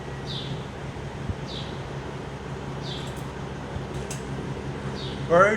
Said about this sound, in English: Birds in the car wash.